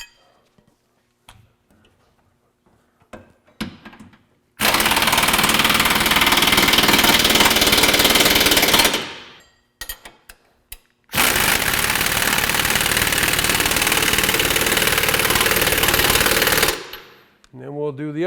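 Lift kit shock absorber bolts are driven tight with a power tool in two long, loud, close bursts of rapid rattling impact hammering, separated by quiet pauses with scattered clicks and handling noises.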